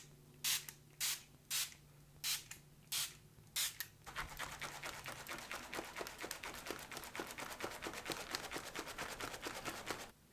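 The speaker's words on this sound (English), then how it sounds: "I'm going to take my Makeup Forever setting spray and spray this all over my face." Makeup Forever setting spray mists over a face in a quick run of short, sharp hisses, about eight separate pumps at first, then a denser rapid series of spritzes, close and fairly quiet.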